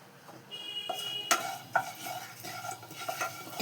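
Whole cumin and ajwain seeds fry in white oil in a wok, giving a steady soft sizzle broken by a few sharp metallic clinks of a spoon stirring against the pan, with no talking.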